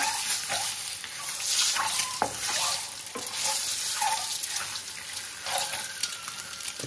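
Boiled eggs sizzle loudly in hot oil in a pan, a dense continuous frying hiss with occasional stirring scrapes and small pops, close and without speech.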